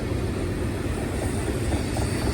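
An empty BNSF ethanol freight train rolls past at Cajon Summit, a steady, loud, close rumble of wheels and cars with no break and no voices.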